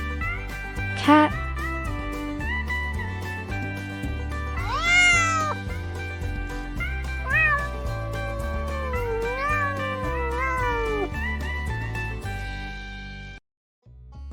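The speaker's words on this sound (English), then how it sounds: "Cat." A cat gives several drawn-out, rising and falling meows over a steady bed of upbeat background music, with one sharp, short cry near the start.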